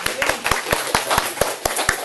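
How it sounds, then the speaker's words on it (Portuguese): An audience claps for volunteers in a classroom lecture. The claps are sharp and come at a quick, even rhythm, fairly close, with faint room noise between them. "Aplausos para os voluntários."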